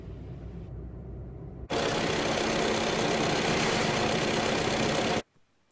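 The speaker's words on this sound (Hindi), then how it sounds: "being a TDI, it is pretty vocal and some amount of sounds and vibrations can be heard inside the cabin" A VW Polo 1.5 TDI diesel engine idles faintly, then jumps to a loud, steady gruff clatter for several seconds before cutting off abruptly, leaving near silence.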